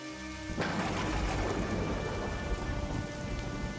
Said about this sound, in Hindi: और ये बारिश भी तेज हो रही है।